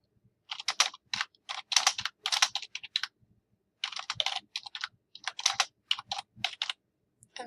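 Fingers type on a computer keyboard up close, quick bursts of crisp clicking keystrokes separated by short pauses, with no talking.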